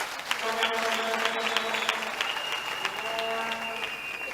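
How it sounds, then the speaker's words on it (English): Audience applause at a Freedom Day address, a steady wash of clapping from a large crowd heard at a distance, continuous throughout with a faint tone underneath. "Can we give her another round of applause?"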